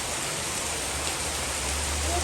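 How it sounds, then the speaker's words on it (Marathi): Heavy rain during a storm in Pune falls as a steady, dense wash of noise, constant and fairly close throughout, with no voices. "केवढा मोठा पाऊस येतोय बापरे"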